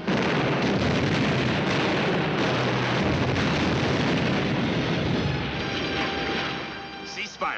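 Heavy gunfire and explosions from a battle scene in a 1951 war film about tanks, a dense, continuous loud roar of blasts and shots filling the whole stretch with no break.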